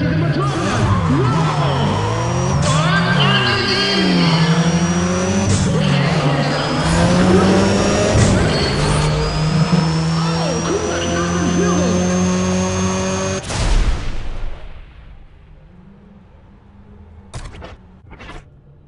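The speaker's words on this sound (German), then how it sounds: "Und hört euch diese Motoren an." Race car engines roaring loudly in Need for Speed: ProStreet, several revving and shifting tones overlapping for about thirteen seconds before cutting off abruptly, leaving a quieter tail with a few sharp clicks.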